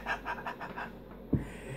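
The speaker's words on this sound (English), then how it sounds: "At first I thought your Packard Bell was panting like a dog." A Packard Bell Legend multimedia computer gives a rhythmic, breathy panting-like noise of about six quick pulses, followed by a single soft thump, quiet and close with no talk.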